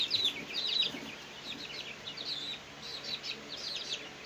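Baby quail and ducklings peep softly from a short distance, a scatter of thin, high chirps that come and go over a quiet background.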